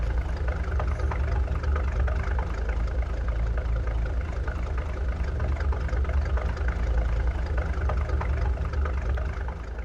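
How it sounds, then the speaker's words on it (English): A truck engine idling nearby, a steady, unbroken low mechanical drone that holds even throughout with no revving. "Are you able to shut that engine off at all?"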